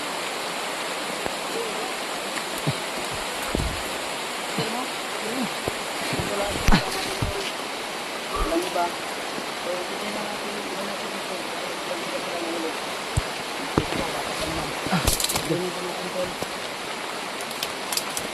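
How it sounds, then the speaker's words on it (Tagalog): Steady, dense broadband rush of heavy rain pouring down, continuous throughout with a few louder splashes and knocks scattered through it. "Napakalakas na ng ulan dito."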